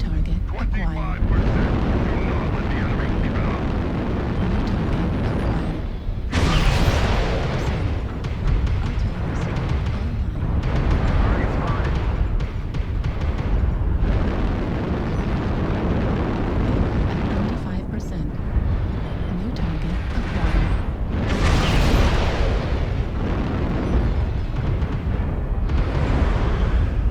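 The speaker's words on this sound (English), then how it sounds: "sit back and enjoy some ATM fire as I ATM people to death" ATM missile volleys from a Veagle mech in MechWarrior Online thunder almost continuously, with loud, dense bursts and booming explosions that swell and fade over and over in a heavy, rumbling wash.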